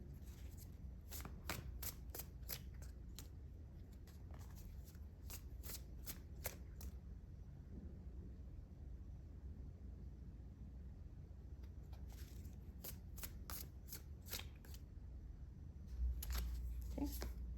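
Tarot cards shuffled and drawn up close during a reading, with crisp riffling bursts at the start, in the middle and at the end over a low steady rumble.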